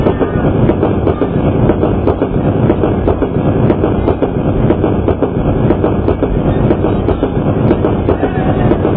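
At a crowded morning gathering in Indore, voices imitate a fast-running train with a loud, dense, rhythmic chugging that continues without pause for about nine seconds.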